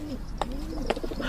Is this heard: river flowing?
no